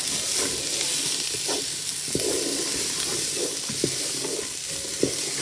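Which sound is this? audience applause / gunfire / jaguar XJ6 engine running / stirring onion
stirring onion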